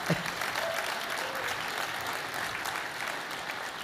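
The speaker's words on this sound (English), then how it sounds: "Now, go ahead, you can clap." A keynote audience at Google I/O 2013 applauds in a large hall: dense, sustained clapping that holds steady from start to finish without any talk.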